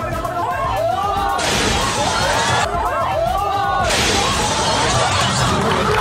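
A stuntman bursts out through a television screen on a live broadcast, with two loud shattering crashes of breaking glass a few seconds apart amid excited crowd chatter and shouting.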